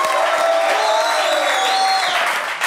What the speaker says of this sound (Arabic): تصفيق على دنجور